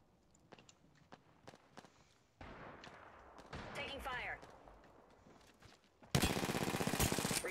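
A firefight in a video game brings scattered single shots, then a longer stretch of shooting, and finally a loud, rapid automatic burst close by. Speech runs faintly underneath.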